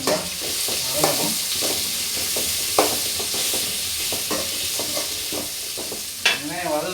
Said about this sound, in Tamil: வெங்காயத்தை போட்டு வெங்காயம் நல்லா வதங்கணும்.